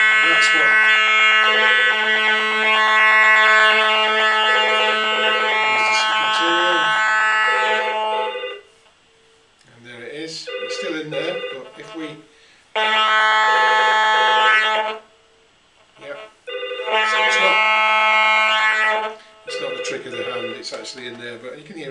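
A radiation monitor buzzes loudly and continuously as a nearby phone rings, then sounds in shorter, fainter bursts when the phone is wrapped in Swiss Shield radiation shielding fabric, with someone talking between bursts.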